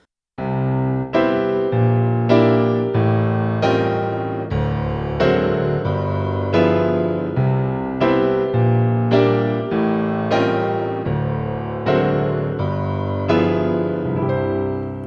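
A piano plays a repeating chord progression, full chords struck roughly every second with sustained bass, a steady unhurried rhythm heard close and alone with no talking.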